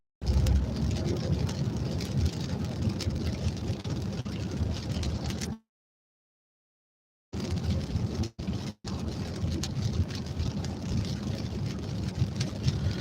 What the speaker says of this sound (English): I learned the rain sound kind of relaxes to sleep